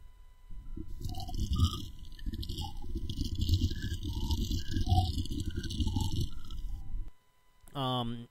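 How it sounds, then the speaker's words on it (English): Bubbles blown through a straw into iced coffee, reworked into a horror sound design: a dense, low, continuous gurgling rumble layered with eerie tonal blips and sweeps, cutting off near the end before a brief voice. "that is me blowing bubbles in my iced coffee"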